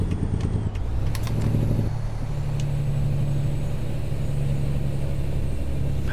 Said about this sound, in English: the J-brake does sound good on this truck engine